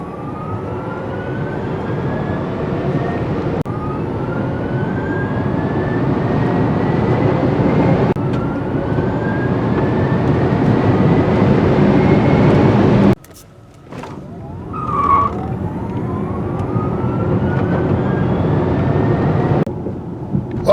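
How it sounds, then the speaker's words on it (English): A 2023 Genesis GV60 Performance electric car accelerates hard with its boost mode engaged, a rising electric motor whine over loud, continuous road and wind rush, with a brief dip in noise partway through. "It really cranks up the horsepower and acceleration when you turn it on."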